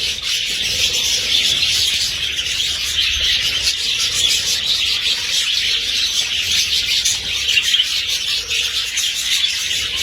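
Many budgerigars chirp and twitter together in a large aviary setup, a dense continuous chorus close by with no talk.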